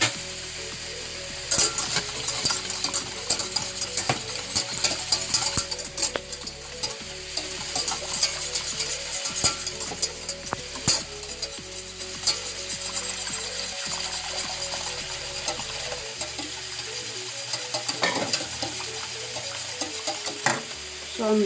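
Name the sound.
stirring minced meat and spinach in a pan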